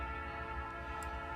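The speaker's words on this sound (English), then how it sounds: "every train is a different horn, which is deeply satisfying to me" Steady, sustained train horn from the Trainz railway simulator game, a loud continuous chord-like blast holding through the whole moment with no voices.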